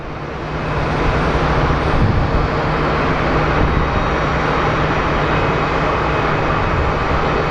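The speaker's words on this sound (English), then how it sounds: "we have Southwest 1505 coming in from Nashville" A Southwest airliner on arrival at Phoenix Sky Harbor, a steady broadband engine roar that swells in over the first second and then holds loud and continuous, with a faint low hum beneath and no voices.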